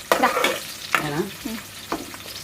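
Onions frying in a pan for a fish curry, a loud close sizzle with stirring scrapes that come in short bursts.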